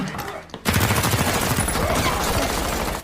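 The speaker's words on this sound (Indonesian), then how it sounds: "polisi elit tersebut langsung menembaki Ito." Sustained bursts of automatic gunfire from elite police in the action film The Night Comes for Us sound loud and close. A short gap early on is followed by dense, continuous rapid shots.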